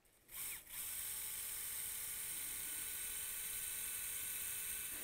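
A surgical 1.1 mm drill runs on bone during phalangeal fracture fixation, giving a steady high-pitched whir that holds evenly for about five seconds after a brief start.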